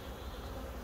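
Honey bees at the hive, a colony under varroa strip treatment, give off a steady, close, dense buzzing hum that holds unbroken throughout, with no voices.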